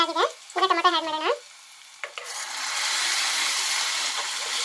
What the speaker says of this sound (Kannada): ಟೊಮೆಟೊನ ಸ್ವಲ್ಪ ಸಾಫ್ಟ್ ಆಗೋ ಥರ ನಾವು ಫ್ರೈ ಮಾಡ್ಕೊಬೇಕಾಗುತ್ತೆ